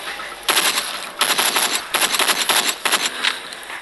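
Bursts of automatic gunfire in the zombie shooter Into the Dead 2, several loud rapid volleys separated by short pauses, crisp and close with no talking.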